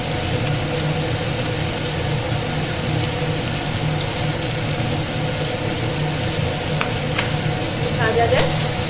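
Sliced bitter gourd fries steadily in hot oil in a home kitchen, a continuous close sizzle with faint clinks near the end and no talking.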